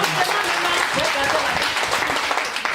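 A church congregation applauds for the Holy Spirit during a testimony service: a continuous wash of clapping from many hands, with voices mixed into the crowd noise throughout.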